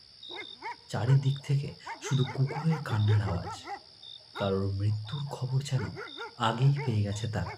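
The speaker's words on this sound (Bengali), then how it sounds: "চারিদিক থেকে শুধু কুকুরের কান্নার আওয়াজ" Dogs howling mournfully at night in a Bengali horror cartoon, with long wavering wails running faintly beneath a continuous narrating voice.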